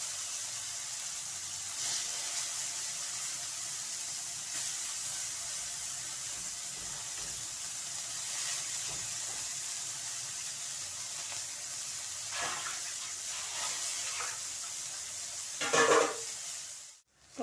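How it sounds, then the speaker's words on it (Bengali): Soybean chunks fry in hot oil with a low continuous sizzle and occasional stirring scrapes, ending in a louder clatter near the end, with no voices. "এখন সয়াবিন ভেজে নেব।"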